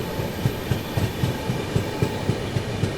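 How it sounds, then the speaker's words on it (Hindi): Mumbai Duronto Express running at speed, heard from on board as a steady rhythmic clickety-clack of wheels over rail joints, about four beats a second, over a constant rumbling hum. "चल रही है अपनी मुंबई दुरंतो एक्सप्रेस"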